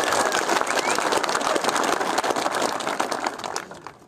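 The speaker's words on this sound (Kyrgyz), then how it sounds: "Анара деген кызга бир кол чабуулар." Audience applause for a girl named Anara, dense and sustained at close range, a broad wash of clapping from a large crowd that thins slightly toward the end.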